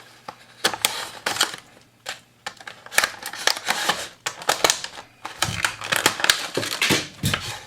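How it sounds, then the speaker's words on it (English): A Johnny Lightning die-cast toy car, a 1964 Ford Fairlane Thunderbolt, is cut from its plastic blister pack, giving a run of sharp close snips, cracks and crinkles in irregular bursts with short pauses. "we're going to go ahead and cut this one out of the package"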